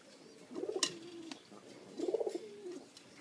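Pigeons from a breeding pair give two soft, rolling coos about a second and a half apart, close but quiet against a low background hum.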